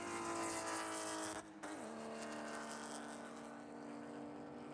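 Porsche Cup race cars howl around the Spring Mountain circuit, with a steady, loud, high-revving engine tone and a brief dip as one car shifts or passes by. No talking is heard.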